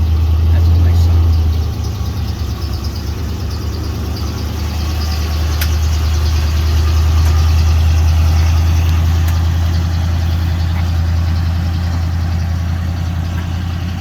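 A 1985 dump truck idles nearby, its engine holding a steady, deep rumbling hum throughout with a faint mechanical chatter on top and no change in pace.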